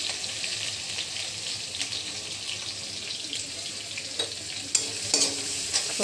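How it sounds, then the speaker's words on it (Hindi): Green chillies, ginger and garlic crushed together frying in a tablespoon of oil with urad and chana dal for upma, giving a steady close sizzle with faint stirring and clinks, no talk. "तो थोड़ा सा भूनने देते हैं।"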